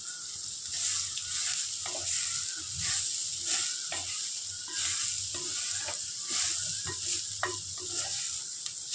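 Soybeans fry in a pan with sautéed onions, giving a continuous close sizzle broken by rhythmic spatula scrapes and stirring strokes, steady and fairly loud throughout with no talking.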